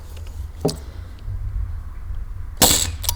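A Nerf blaster fires Nerf Pro half length darts: two sharp pops, a small one near the start and a louder, broader burst late in the clip with a quick follow-up, over low background rumble.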